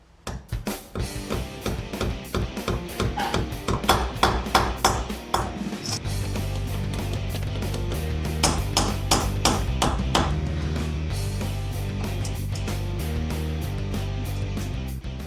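Sharp metallic taps of a hammer driving nails into a wall strike in a quick regular series, then give way to a steady humming drone.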